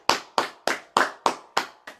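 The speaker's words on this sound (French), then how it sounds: "Applaudissons le Seigneur, applaudissons le Seigneur." A church congregation clapping their hands for the Lord in seven sharp, evenly spaced claps in a steady rhythm, close and fairly loud, with no voices.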